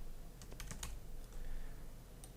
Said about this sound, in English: I'm going to go Control C on Control V on my keyboard to paste what was copied to my clipboard